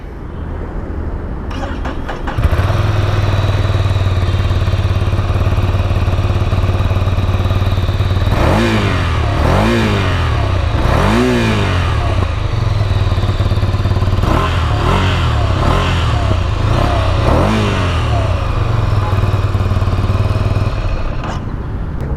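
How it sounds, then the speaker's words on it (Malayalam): A Ducati Scrambler motorcycle engine fires up and settles into a loud, steady idle. It is throttled through a few sharp revs in two separate bursts before returning to idle. "പിന്നെ എഞ്ചിൻ സ്റ്റാർട്ട് ചെയ്യാം."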